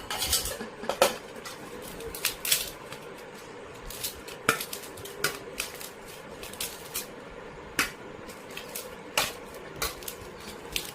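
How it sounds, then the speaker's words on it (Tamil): A spoon mashes boiled carrot and chicken in a bowl for a Labrador, giving repeated light metallic clinks and scrapes in an uneven rhythm, close by and fairly quiet. "நல்லா மசிச்சாச்சு மசிச்சிட்டோம்"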